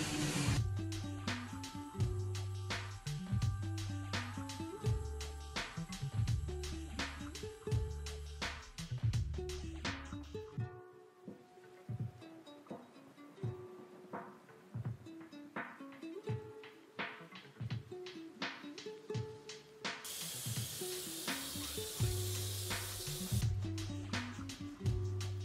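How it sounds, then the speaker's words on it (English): A spray gun lays white gel coat onto a boat hull mould for a Bonito 500 Islander, giving one steady hissing burst of about three seconds over rhythmic background music. "we're about to start gel coating the white bottom"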